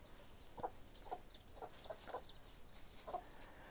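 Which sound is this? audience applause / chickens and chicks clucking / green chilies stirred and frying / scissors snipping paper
chickens and chicks clucking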